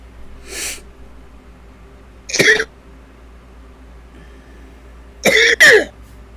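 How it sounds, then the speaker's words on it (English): A person coughs in three separate bursts, with a single short hack followed later by a closer, harsher double cough, all against a quiet room background. "Haven't even smoked yet and I'm coughing my lungs out."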